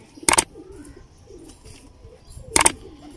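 Teddy pigeons in a loft coo softly and steadily in the background, broken by two sharp, loud bursts about two seconds apart.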